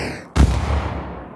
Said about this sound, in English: Shooting is working,